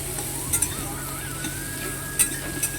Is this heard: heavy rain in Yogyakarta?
no